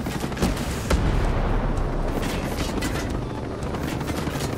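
Gunfire in the video game Ghost Recon Breakpoint, a steady barrage of rapid shots over a low rumbling engine-like drone, loud and continuous with sharper cracks near the start.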